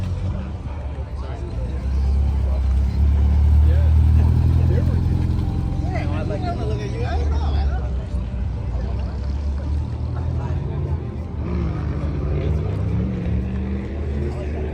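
A car pulling out at a car show at La Paloma in Woodbridge, a deep engine rumble building close by and then easing off, with someone talking over it throughout.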